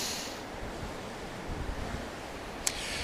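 Wind outdoors by Hallgrímskirkja church buffets the microphone in a loud, continuous roar with low rumbling gusts, alone with no voices.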